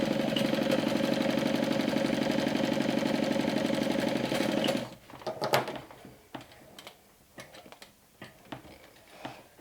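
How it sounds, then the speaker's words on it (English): A sewing machine stitches a vinyl backpack seam with right sides together, a steady rapid mechanical whir for about five seconds, then stops, followed by scattered clicks and handling taps. "let's sew right sides together"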